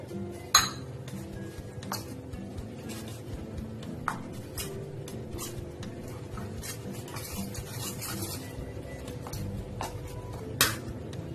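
Fish fry batter mixed with water in a bowl, a soft continuous stirring with scattered light clinks of a utensil against the bowl, close and steady with no talking.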